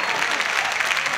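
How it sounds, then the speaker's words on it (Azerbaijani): A studio audience bursts into dense, sustained applause for a contestant on a televised comedy show, loud and close with no pause. "Səməd Səmədov bir yəni alqışdan gəlsin"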